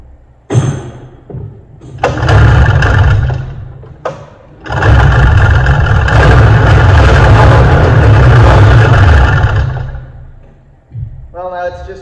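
A John Deere Liquifire 440 with no spark cranks in bursts, the starter churning loudly in two short tries and then one long crank of about six seconds that never catches. Near and loud, with a brief voice at the very end.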